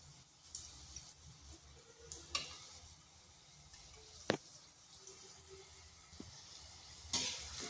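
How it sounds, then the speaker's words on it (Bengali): Potato bombs (aloo boma) frying in oil give a faint, low bubbling sizzle, interrupted now and then by a few sharp clacks and scrapes as they are turned and stirred. "এইগুলোকে এইভাবে নেড়ে চেড়ে হালকা বাদামি কালার করে ভেজে নিচ্ছি"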